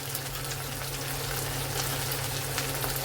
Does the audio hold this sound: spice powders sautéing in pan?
yes